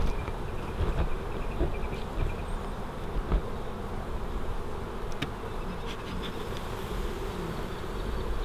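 Dense, continuous buzzing of many honeybees close by at an open hive frame, a steady hum with occasional louder individual passes.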